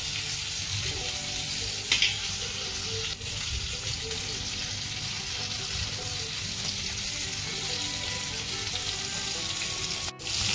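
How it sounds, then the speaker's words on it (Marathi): Pomfret fish frying on a hot pan makes a continuous close sizzle and hiss, steady throughout with a couple of faint knocks. "एक बाजूला इकडे एक फ्राय करण्यासाठी टाकलेला आहे, दुसरा इकडे परत तवा ठेवलाय गरम करत."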